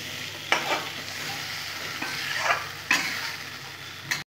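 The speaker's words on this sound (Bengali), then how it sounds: "এখন ভালো করে নাড়িয়ে নেব।" Spice masala frying in a pan while being stirred, a soft continuous sizzle broken by several scraping strokes of the spoon, close and fairly quiet, with no talking.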